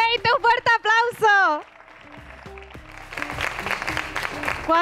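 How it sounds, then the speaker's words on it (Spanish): Applause from an audience at a gala final prize ceremony rises after a voice stops speaking and carries steadily, moderately loud, through the rest of the moment. "¡Un fuerte aplauso!"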